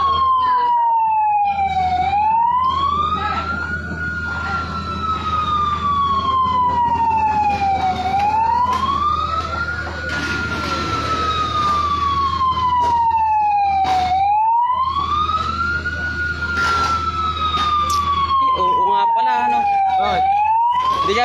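A fire truck siren wails in slow rising and falling sweeps, loud and close, over an engine hum and crowd chatter at a house fire in Nueva Ecija.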